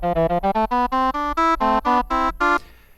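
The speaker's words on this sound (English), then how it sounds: "This instrument is DX oboe." A sampled DX oboe instrument in Kontakt plays a quick run of about a dozen separate reedy notes, each clear and close, ending with a short decay.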